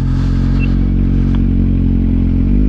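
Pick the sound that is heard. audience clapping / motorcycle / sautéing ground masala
motorcycle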